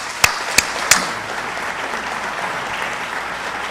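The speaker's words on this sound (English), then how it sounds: "Give them a round of applause for what they do together" An audience at a fire department awards ceremony applauds steadily after a few sharp, loud claps at the start, a dense, even clatter of hands.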